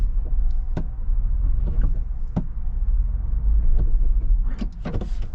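A 2025 Ford Bronco Badlands Sasquatch crawls slowly off-road in 4-wheel drive, giving a steady low engine and drivetrain rumble. Occasional clunks and knocks from the body and suspension sound throughout.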